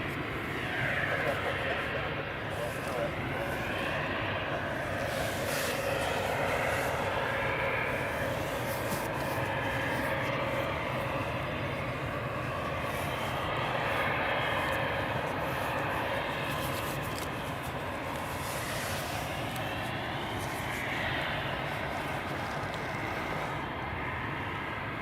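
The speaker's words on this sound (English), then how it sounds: "we've got a Finnair A319 that's about to depart to Helsinki" A Finnair Airbus A319 departs runway 24 at Edinburgh Airport for Helsinki, a continuous loud jet roar with whining engine tones and wind buffeting, steady throughout, while a voice talks faintly underneath.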